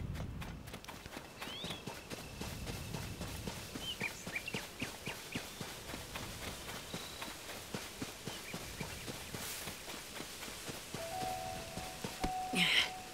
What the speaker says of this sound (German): Hier sind recht viele Pferde interessanterweise.